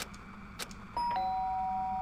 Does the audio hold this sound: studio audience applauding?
no